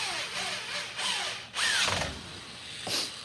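A power drill drives a drywall screw into a wooden stretcher frame. The motor whirs in several rising and falling bursts close by, with clicking as the screw bites, and no talking.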